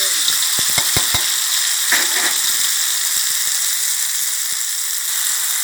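Red curry paste fries in Olein vegetable oil in a pan, a loud, bright, continuous sizzle with a few short stirring scrapes near the start.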